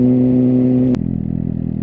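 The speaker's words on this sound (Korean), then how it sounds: "바이크로 출근하면서 배기음도 찍을 겸" A liter-class, 200-horsepower sport motorcycle's exhaust while commuting: a loud, steady engine drone broken by a sharp crack just under a second in, then a lower, pulsing rumble.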